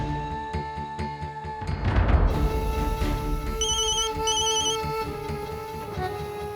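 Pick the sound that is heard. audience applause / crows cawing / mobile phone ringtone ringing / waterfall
mobile phone ringtone ringing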